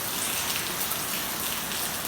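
Steady rain falls in a dense, even hiss, filling the air with continuous close patter on surfaces and no voices or other sounds over it.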